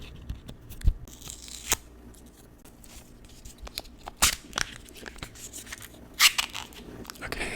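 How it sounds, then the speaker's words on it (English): Makeup packaging being ripped open by hand in a quiet room, with a few sharp tearing and crinkling bursts spread between softer handling rustles, close and fairly quiet. "I think I just have to rip it"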